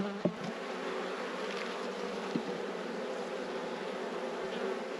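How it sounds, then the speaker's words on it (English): Honey bees swarm around an opened rescue hive during a frame inspection, a dense, steady buzzing that stays close and continuous throughout, with a couple of brief knocks from handling the frames. "How nice are these bees?"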